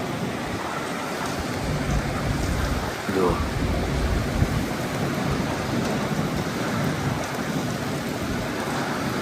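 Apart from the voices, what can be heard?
heavy storm with rain and thunder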